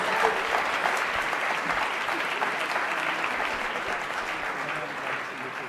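Audience at an awards celebration and fundraiser applauding award recipients, a sustained wash of many hands clapping at moderate distance, fairly even throughout and slowly easing off toward the end, with faint crowd murmur beneath.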